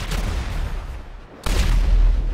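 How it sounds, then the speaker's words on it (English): A loud, continuous roaring blast as a speeding character breaks the sound barrier in a GTA 5 Quicksilver super-speed mod, briefly dropping before surging back in a heavy rumbling wash. "I guess that's the noise you make when you break the sound barrier"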